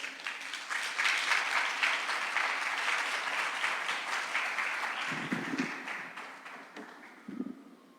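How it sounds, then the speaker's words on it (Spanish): A congregation in a church breaks into loud, sustained applause that swells and holds for several seconds, then thins out into scattered claps and a few taps near the end. "Den un fuerte aplauso a Dios"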